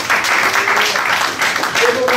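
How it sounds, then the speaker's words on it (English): An audience applauds an award recipient at an arts tribute, with steady clapping from a crowd and a voice speaking over it. "Give her one more round of applause."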